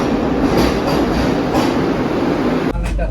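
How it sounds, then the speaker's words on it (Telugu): A Vande Bharat train rolls into a station with steady loud rumble and rail clatter, ending in a brief clank, as a busy platform murmurs around it. "ట్రైన్ ఫైనలీ వస్తుంది it's like almost 15 minutes late అనమాట అదిగో yes that's the Vande Bharat"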